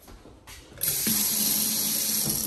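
A kitchen faucet over a black solid-surface counter opens with a small metallic click, then water rushes strongly and steadily into the sink, close and loud, with no voices.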